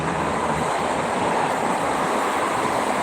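Strong wind roars steadily across the microphone beside the Jakarta–Cikampek toll road at km 57, a dense, unbroken rushing buffet with no pauses or voices.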